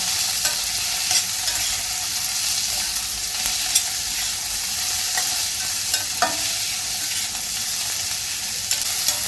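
Masala for Maharashtrian sev bhaji is stirred and roasted in a pan, giving a steady, close sizzle broken by occasional scrapes and clinks of the spoon, with no talking.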